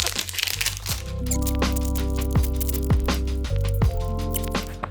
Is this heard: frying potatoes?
no